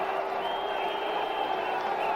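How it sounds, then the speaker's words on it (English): A large crowd at an India vs Pakistan Test cricket match in Mohali cheers and roars steadily, a dense, continuous wash of noise from a packed stadium. "The crowd really having a ball here."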